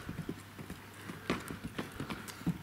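A horse's hooves clip-clop on hard ground as it is led, a steady, moderately close run of hoofbeats over faint background noise.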